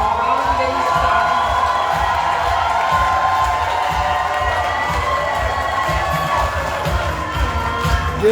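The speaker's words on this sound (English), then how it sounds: "Let's give them a rounding applause." A large crowd cheers and whoops for the UVI and USM class of 2025 at a graduation ceremony, a sustained roar with shouts rising over it, loud and continuous throughout.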